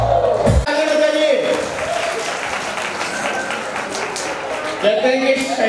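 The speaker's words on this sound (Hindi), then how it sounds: "तालियां बजाइए।" Audience applause at a Thari Lohana Samaj annual community function in Ahmedabad, a dense steady wash of many hands clapping that fills the room for several seconds, with a strong voice and music-like tones briefly over it at the start and end.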